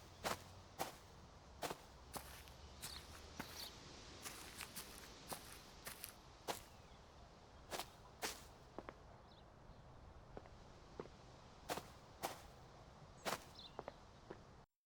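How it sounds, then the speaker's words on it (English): Footsteps of a player character in a custom Unreal Engine game, crisp isolated steps tapping at an uneven walking pace against a very quiet, near-silent background. "Here's how the footsteps sound in game."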